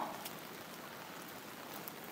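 Heavy rain pours in a dense, even hiss, steady and uninterrupted, fairly faint and distant, with no voices.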